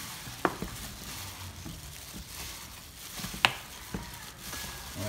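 A large batch of about 150 pieces of fried chicken fries in oil with a constant close sizzle, punctuated by a few sharp clicks of stirring against the pan.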